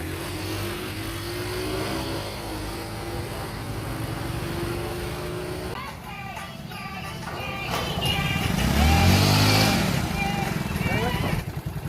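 A Yamaha Fino motorcycle engine runs nearby, humming at idle and then rising in a rev partway through, while people talk over it.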